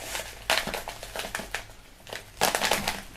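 Scissors snip open a plastic bag of aquarium sand for a 10-gallon saltwater tank: close, crinkly crunches and rustles in a few bursts, with no talking.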